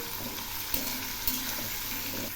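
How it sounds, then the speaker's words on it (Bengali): Okra frying in oil in a pan, stirred as it cooks: a steady, close sizzle held throughout, with two brief scraping knocks of the spoon against the pan and no talking. "এই ঢেঁড়সগুলো আমি খুব ভালো করে ভেজে নেব, যাতে ভাজতেই সেদ্ধ হয়ে যায়।"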